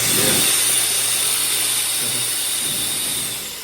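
A loud, steady high-pitched whir of an electric air blower running at full power, holding constant before tapering slightly at the end.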